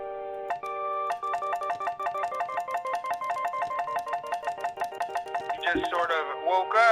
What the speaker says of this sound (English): You just sort of woke up with the phone pressed to your ear, ringing on the other end.